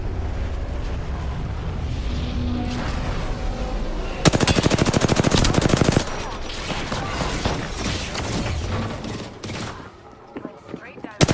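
Video game gunfire, rapid automatic bursts crackling loudly in a dense two-second volley, then scattered shots and combat noise with a voice talking over it.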